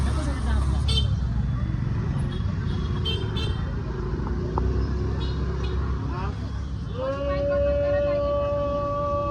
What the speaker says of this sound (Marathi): इथे गाड्यांची गर्दी आहे